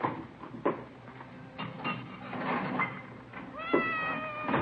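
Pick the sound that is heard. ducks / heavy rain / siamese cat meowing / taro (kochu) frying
siamese cat meowing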